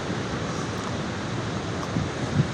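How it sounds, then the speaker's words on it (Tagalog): Wind gusting across a seaside terrace with the sea at Dingalan, Aurora beyond, a steady loud rush of broadband wind noise and surf with low buffeting on the microphone, no voices. "Kasi mahangin dito sa terrace na tinutuntong ko. Saka yung dagat."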